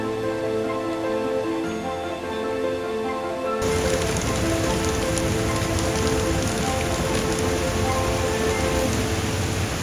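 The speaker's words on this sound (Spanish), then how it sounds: "¿qué vamos a hacer en esta lluvia?" Heavy rain falling in the mountain village of Minca, Colombia, a dense steady hiss that swells sharply partway through and stays loud and continuous to the end.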